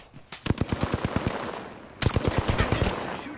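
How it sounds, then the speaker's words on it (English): Rapid bursts of automatic gunfire from enemies in the Apex Legends Season 2 battle royale shooter, two loud rattling volleys separated by a brief lull, sharp repeated cracks close by. "Enemies are shooting."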